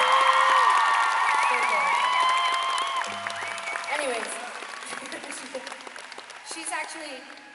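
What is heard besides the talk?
concert audience applause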